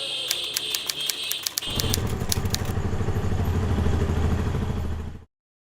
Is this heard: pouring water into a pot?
no